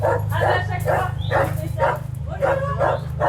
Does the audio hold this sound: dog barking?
yes